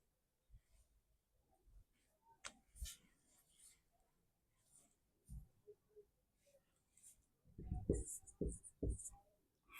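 Faint, intermittent scratching strokes of chalk or marker on a classroom board during a Class 10 physics lesson on refraction of light, with a louder cluster of strokes near the end and soft voice sounds in the background.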